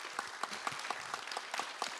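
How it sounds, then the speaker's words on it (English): A summit audience gives a round of applause: soft, fairly distant clapping with regular sharp claps standing out in a steady rhythm. "A round of applause for Nolene."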